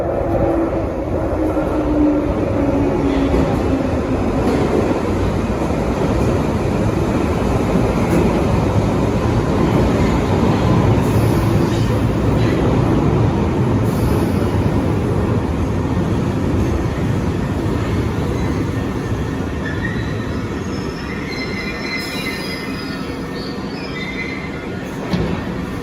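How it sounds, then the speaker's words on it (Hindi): A train pulling into a London station, a loud continuous rumble of wheels and carriages with a falling squeal as it slows, steady throughout with no talk. "बस ट्रेन की आवाज़ आ रही है, ट्रेन आने वाली है।"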